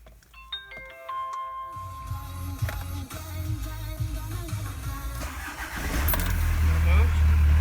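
A car's ignition chimes with a few dings, the starter cranks, and the engine catches and settles into a steady, close idle.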